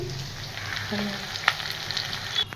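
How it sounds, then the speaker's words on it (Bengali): Fish fat frying in a pan gives a steady, close hiss of sizzling oil with a few soft crackles and pops, heard alone without talk. "এদিকে মাছের তেলটা ভাজা হয়ে গেছে"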